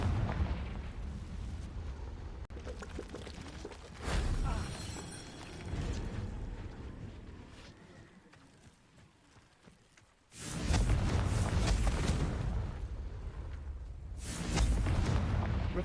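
Confringo fire spell explosions in Hogwarts Legacy, heard as several heavy booming blasts with rumbling decay, separated by quieter stretches of game ambience.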